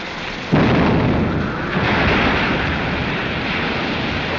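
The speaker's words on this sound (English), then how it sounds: "Fire that gun" A ship's cannon fires in a 1936 film: a sudden loud boom at about half a second, then a long roaring, surf-like rumble that slowly fades, with no voices.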